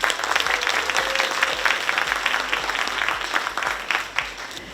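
Many parents and guests at an education talk show in Yeongtong district clap loudly and continuously, a thick, lively burst of applause that tapers slightly near the end.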